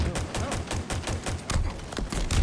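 Rapid automatic gunfire in the Halo video game, a dense stream of loud, evenly spaced shots rattling throughout with heavy low thumps, close and continuous.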